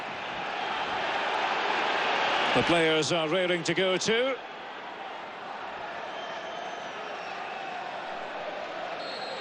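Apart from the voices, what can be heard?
full stadium crowd at Liverpool football match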